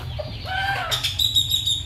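A hen with her chicks out in a yard, giving soft clucks and high peeping chirps amid some wing flutter, fairly close, with no talk.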